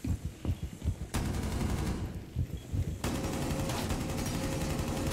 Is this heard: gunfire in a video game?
yes